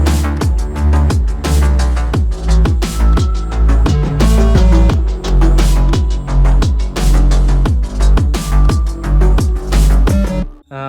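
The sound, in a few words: 808 counter melody one octave higher, with distortion and stereo shaping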